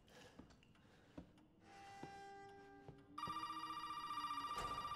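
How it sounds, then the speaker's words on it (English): A telephone rings in a horror video game, starting as a few scattered tones and then breaking into a loud, rapid, continuous trilling bell for the last couple of seconds. "That damn phone."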